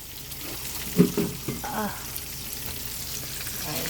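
Pieces of fried chicken frying in a pan, a dense crackling sizzle with a few louder pops and spatters early on, heard close.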